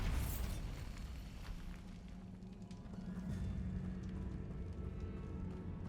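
A Bombarda blasting spell in a Hogwarts Legacy wizarding game bursts with a deep rumbling explosion that rolls on with crackling debris and a lingering low roar.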